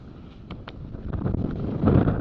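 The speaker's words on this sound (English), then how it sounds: "the wind has come up significantly." Strong wind gusting over a sailing race course with whitecaps, roaring against the microphone in a steady, rising rush with rustling buffets, close and loud.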